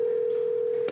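A steady telephone ringback tone hums unbroken on an unanswered call, a single sustained note that cuts off near the end.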